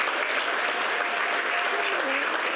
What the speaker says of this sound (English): A round of applause for that wonderful achievement